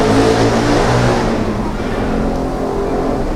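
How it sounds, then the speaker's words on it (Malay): A motorcycle passes near a mosque, its engine a loud, close, steady roar that eases off only slightly toward the end. "motor tu berjalan dekat masjid ke apa"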